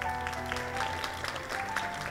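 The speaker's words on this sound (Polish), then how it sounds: "Wielkie brawa!" A crowd applauds a singer being introduced on stage, giving continuous, moderately loud clapping over a sustained musical backing.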